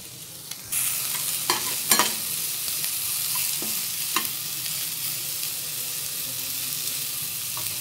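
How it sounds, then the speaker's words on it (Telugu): Carrot and mixed vegetables frying and being stirred in a pan for gobi manchurian, a steady close sizzle with several sharp scraping clicks of the spatula, no talking. "క్యారెట్ అది లైట్గా ఫ్రై అయితే చాలు మనకి."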